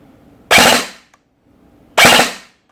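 A DoubleEagle B&T APC5.56 electric airsoft gun set to three-round burst fires two sharp, loud bursts about a second and a half apart, each fading quickly into near silence.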